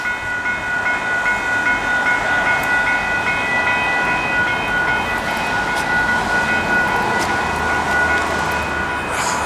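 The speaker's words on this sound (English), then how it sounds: "The train is currently in the platform at the station." A train sits idling at the Paekakariki station platform with a steady mechanical hum and high electrical whine, constant background noise throughout, no voices.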